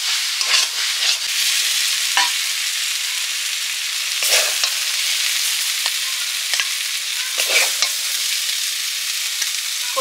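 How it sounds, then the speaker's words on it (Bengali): Water spinach (kalmi shak) frying in ghee gives a constant bright sizzle, with occasional stirring scrapes of a spatula in the pan. "ঘি দিয়ে কলমি শাক ভাজা করলে খেতে দারুণ লাগে"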